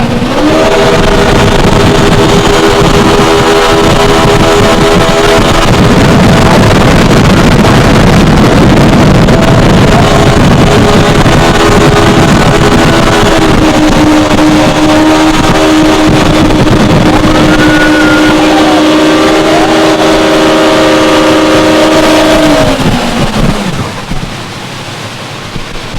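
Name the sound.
Yamaha SX230 jet boat engine revving, accelerating at speed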